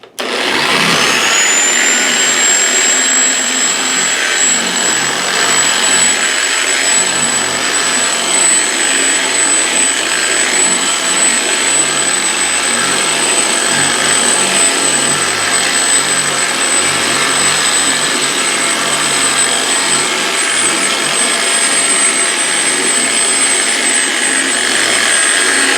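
A car polisher runs at speed 2.5 spreading carnauba wax, a loud, steady high-pitched whine that holds unbroken for the whole stretch, close and without voices.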